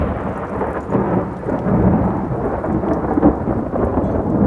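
A thunderstorm sound effect with dense, steady rain and deep rolling thunder rumbling continuously at a loud level, with no voices over it.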